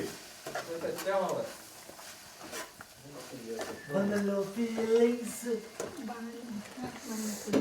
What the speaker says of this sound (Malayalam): നല്ലോണം മിക്സ് ചെയ്ത് കൊടുക്കട്ടെ, നല്ലോണം മിക്സ് ചെയ്യും.